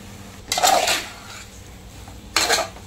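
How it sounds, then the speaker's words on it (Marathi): Salted vegetables stirred in a cooking pot, two distinct bursts of a metal spoon scraping and clinking against the pot, close up with quiet between them and no talk. "हे चांगलं ढवळून घ्यायचं मीठ टाकल्यावर."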